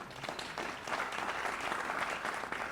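Brief applause from a Civil War round table audience honoring a speaker's wife, a steady wash of clapping of moderate loudness lasting a few seconds, with no talk over it.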